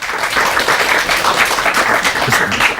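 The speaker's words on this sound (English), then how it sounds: "I think that's the sort of time you should just kind of clap" An audience claps at the close of a game show, a dense, continuous burst of applause that stays loud and even for a few seconds.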